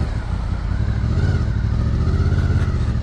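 A motorcycle fitted with an aftermarket sport exhaust runs close by with a deep, throaty, steady rumble. The engine note throbs slightly and holds at a constant level throughout.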